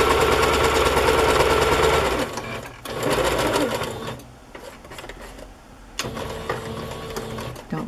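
A sewing machine zigzag-stitches around the edges of vintage bedsheet fabric pieces, its steady mechanical whir running loud and close with brief pauses and restarts between bursts.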